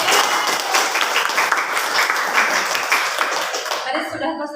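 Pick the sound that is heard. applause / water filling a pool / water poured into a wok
applause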